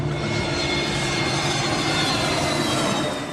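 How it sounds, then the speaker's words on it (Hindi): A fixed-wing passenger plane racing down the runway at Mumbai airport and lifting off, its jet engines giving a loud, steady, unbroken roar that stays strong throughout. "मुंबई के हवाई अड्डे से विमान रनवे पर दौड़ता हुआ उड़ान भरता है।"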